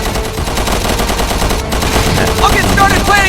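Rapid automatic gunfire in Resident Evil 6, loud and continuous bursts filling the whole stretch, with a brief cut mid-way and a voice faintly underneath.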